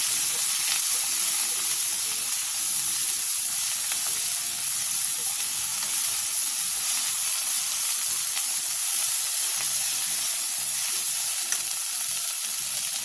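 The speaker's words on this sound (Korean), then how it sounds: "팬에 기름을 두른 뒤 부추와 소금 3분의 1스푼을 넣고 부추의 숨이 반 정도 죽을 때까지 센 불에서 볶아주세요." Chives stir-frying in oil with salt over high heat, a loud steady sizzle that stays dense and unbroken throughout, close up with no talking.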